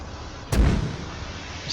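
A single 2B14-1 Podnos mortar firing in Arma 3 gives one loud, booming launch thump that decays over a low rumble, with no talk.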